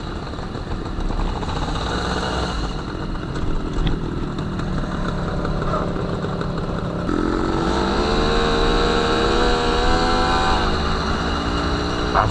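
An MBK 51 moped engine idles steadily and smoothly, a continuous mid-pitched putter close by that swells slightly in revving around halfway through, with no talk over it.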